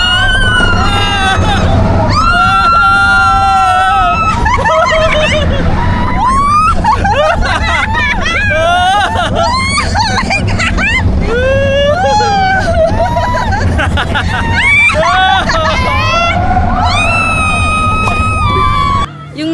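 Riders scream and shriek on the Grizzly roller coaster at Hong Kong Disneyland, with many voices wailing continuously over loud, rushing ride noise for the whole stretch.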